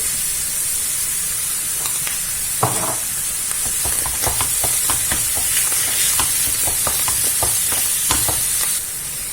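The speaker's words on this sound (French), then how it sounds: "On va rajouter notre sauce soja." Chicken filling frying in a pan as soy sauce goes in, a continuous loud sizzle with hissing steam and repeated scraping stirs, up close and without talk.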